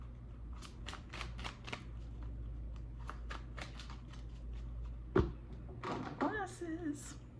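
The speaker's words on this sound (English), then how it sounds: "let's pull some oracle cards." Oracle cards are shuffled by hand in a long run of quick riffling bursts, close and fairly soft, followed by a couple of sharp taps and a brief higher rustle near the end; no one speaks.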